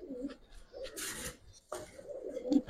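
Domestic pigeons, Giribaz, racer and colouring breeds for sale, coo in low, rolling bursts at close range, with scuffling and rasping noises between calls and no talk.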